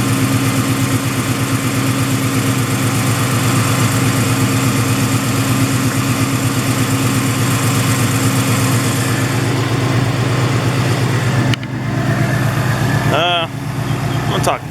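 A 2015 Mustang GT with Stainless Works headers and a loud exhaust rumbles steadily at close range, a deep continuous drone that drops off sharply near the end.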